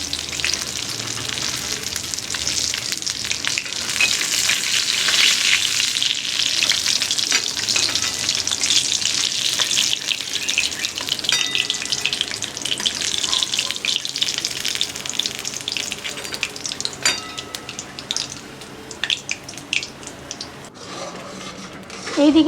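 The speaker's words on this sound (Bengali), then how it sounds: "মাছের মাথাগুলো আমি এপুট এপুট করে খুব ভালো করে একটু কড়া করে ভেজে নেব।" Fish heads fry to a crisp in hot oil with a loud, continuous sizzle and crackle that stays close. Occasional scrapes and clinks of stirring cut through, and the hiss eases slightly toward the end.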